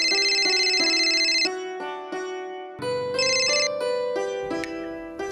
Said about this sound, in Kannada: ಫೋನ್ ಯಾರ್ದು ಅಂತ ನೋಡ್ತೀಯಾ?